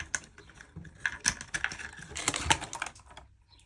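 Dice rolled by hand onto a table, a quick burst of several sharp clattering clicks and rattles that settle over a few seconds, close and fairly quiet, with no voices.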